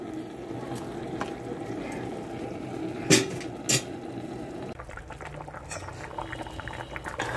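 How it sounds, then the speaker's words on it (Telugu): A pot of tamarind stew (pulusu) with lentil fritters boils steadily, giving a continuous bubbling, simmering hiss, broken by two brief sharp knocks around the middle before the bubbling grows quieter. "పులుసు మరుగుతుంది"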